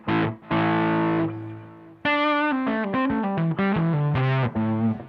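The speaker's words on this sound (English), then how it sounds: "Like I like a kind of a always on delay" An electric guitar plays distorted chords and short melodic phrases, each note trailing into repeating echoes that keep ringing after the strings stop.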